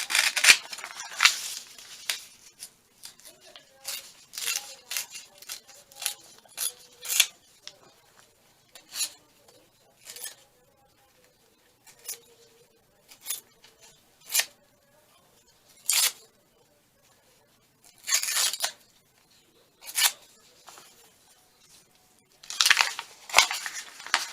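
Paper pages torn out by hand for junk journal clusters, a series of sharp, close ripping bursts separated by short pauses, some quick and clustered, others single and longer.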